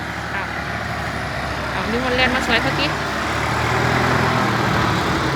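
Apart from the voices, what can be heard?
farm tractor working to fell large trees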